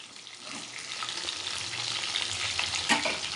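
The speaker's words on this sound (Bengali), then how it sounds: "এটা সাদা তেলেই ভাজতে হবে" Food fries in white oil in a kadai with a steady hissing sizzle, as a spatula scrapes and stirs it now and then, close and fairly quiet with no voices.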